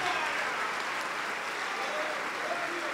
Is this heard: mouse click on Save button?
no